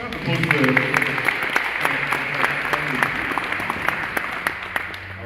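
Steady audience applause at a live-streamed peace poster awards event, many hands clapping evenly throughout at moderate volume, with a voice faintly mixed in early on.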